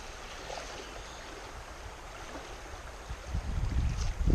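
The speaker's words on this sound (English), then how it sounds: "Man, that is fast water. I'll tell you, that is really fast water." Fast, high spring water of Pine Creek rushing past a fly-fishing spot in May, a steady broadband roar that swells louder and rumbles deeper toward the end, with no voices.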